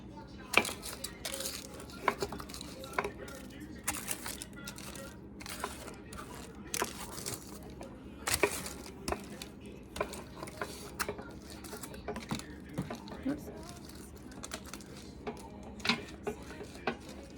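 Repeated scraping and clinking of a utensil against a pan as roasted food is scraped into a blender, irregular strokes with small knocks, close by and without talk.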